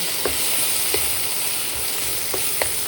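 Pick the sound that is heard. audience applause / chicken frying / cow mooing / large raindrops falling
chicken frying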